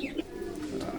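Domestic pigeons coo softly while bathing, a low, steady murmur of calls that runs faintly through one short second with no voices.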